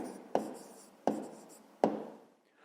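Numbers are written by hand during a fifth-grade math lesson: three distinct scratchy pen or chalk strokes, each a short sharp onset fading out, close and quiet, with no talking.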